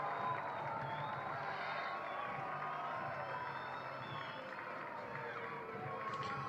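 Home crowd at a minor-league baseball game, Akron RubberDucks hosting the Reading Fightin Phils, cheering steadily after a solo home run, a broad continuous roar of many voices filling the ballpark with faint talk mixed in.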